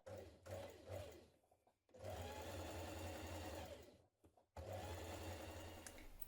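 A sewing machine understitching the neckline seam of a jumpsuit to its facing runs in close, steady bursts, with two short pauses between stretches of stitching.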